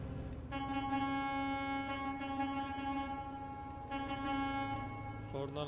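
A truck air horn in Euro Truck Simulator 2 sounds long and sustained over an engine rumble while climbing through the Alps with a double trailer. Two extended blasts ring out and echo with a tonal, layered quality.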